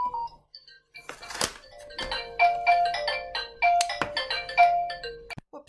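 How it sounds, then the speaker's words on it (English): Viber incoming call ringtone playing a repeating bright electronic melody of short chiming phrases, preceded by a few thumps and knocks nearby. "Whoops, that was my granddaughter ringing me on Viber"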